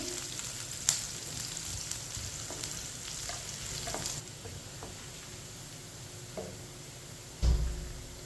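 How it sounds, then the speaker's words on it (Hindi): Onions fry and brown in oil for masoor dal, a steady close sizzle with occasional stirring scrapes and a firmer knock near the end. "प्याज को हल्का सा ब्राउन कर लेंगे"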